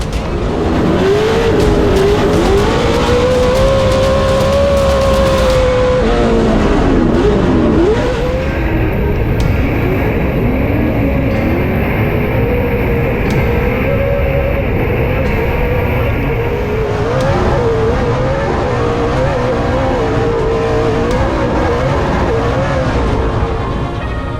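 Pro 4 off-road racing trucks of 850 to 900-plus horsepower roar loudly and continuously at a race start, engines revving and rising in pitch as the pack accelerates past, with faint crowd noise beneath.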